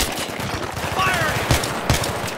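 Gunfire in the Battlefield 3 mission Operation Swordbreaker, a firefight against enemies on street level and rooftops, with two sharp loud shots standing out over a constant dense battle din, with a voice briefly heard in the middle.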